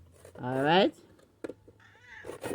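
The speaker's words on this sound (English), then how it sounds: "that's my cat in the background." A pet cat gives a loud, drawn-out rising meow close by in a home kitchen where coconut oil is being made, followed by a softer second mew, with a person briefly speaking.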